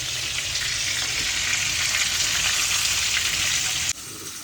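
Fish pan-frying in butter with lemon and garlic, a steady, close sizzle with crackling that holds evenly for about four seconds before dropping abruptly to a quieter hiss near the end.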